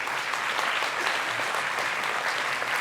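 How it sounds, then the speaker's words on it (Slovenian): A conference audience gives a round of applause for a panel of five speakers at a public administration event, with dense, uniform clapping held at a constant level. "še enkrat velik aplavz našim 5 panelistom"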